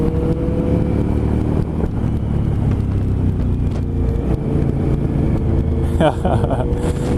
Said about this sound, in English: This thing is so throaty, it's crazy.